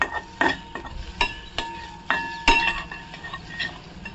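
A spoon stirs and scrapes garam masala and turmeric in a pan for a cabbage dish, giving a series of sharp metallic clinks and taps at an irregular pace, close and fairly clear.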